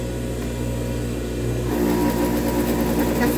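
A sewing machine stitches children's dungarees with a steady motor whir that grows louder and busier partway through, close and uninterrupted by talk.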